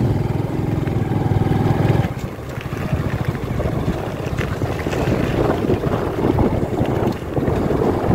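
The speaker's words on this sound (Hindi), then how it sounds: "हवा बह रही है बहुत ही ज़्यादा" Strong wind buffets the microphone while riding a motorbike in cold weather, a loud, steady roar of rushing air with low rumbling gusts throughout, no voices heard.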